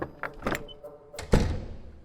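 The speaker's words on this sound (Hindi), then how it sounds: "सबसे पहले दरवाजा बंद किया।" A door is shut indoors, with a few light clicks and shuffles before a single sharp thunk, fairly close and alone without talk.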